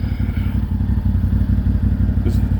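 Engine of a 2023 CFMOTO 1000 Overland four-wheeler with a cranking issue, running close up with a loud, rapid, lumpy idle throb and some clattering throughout.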